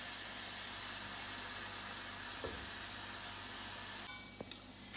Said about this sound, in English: As you can hear, that's the milk from the coconut that's coming out.